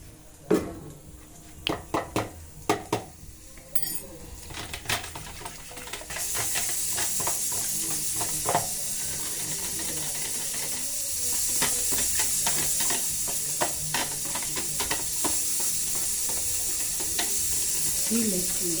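A tempering with ginger powder sizzles in a pan while being stirred. It opens with scattered clicks and scrapes, then settles into a loud, continuous sizzle with ongoing stirring taps.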